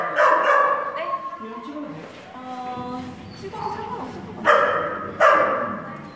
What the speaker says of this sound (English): so like all the dogs here are the cloned dogs